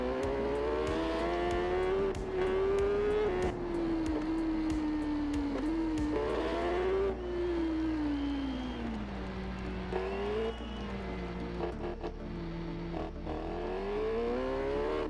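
Supersport motorcycle engine in the racing game TT Isle of Man 3, revving high and dropping in pitch through gear changes and braking, then climbing again, a continuous close whine with sharp shift clicks.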